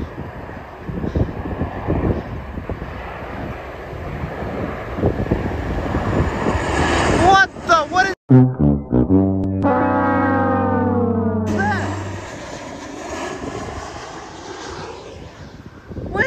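An airplane coming in to land on a runway at KCLE during pre-airshow plane spotting, a loud sustained jet engine roar with shifting whine and rumble, heard from nearby without talk.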